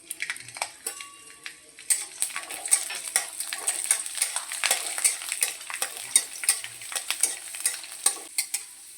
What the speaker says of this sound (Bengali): রসুনটাও লাল লাল করে ভেজে নেব।